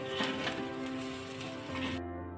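Mung bean pulao with coriander is stirred in a pan, giving a light sizzle and soft scraping under steady background music.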